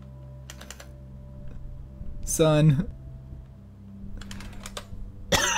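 Computer keyboard keys clicking in scattered light taps while people talk excitedly over a space simulation game session.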